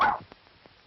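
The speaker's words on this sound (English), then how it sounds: "A bit of a Pomeranian, sir." A small Pomeranian dog gives one short, sharp bark up close, followed by faint quieter sounds in an old 1936 film soundtrack.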